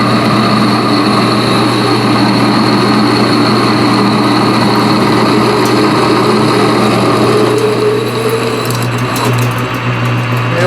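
A shop-made spade drill bores through a metal piece in a machine shop, a loud continuous droning whine with steady tonal hum that holds throughout, shifting slightly near the end as it breaks through.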